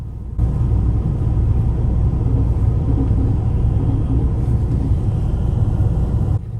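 A KiHa 2000 series diesel limited express train passes on a Shikoku line with a steady heavy rumble and engine drone, loud and continuous throughout.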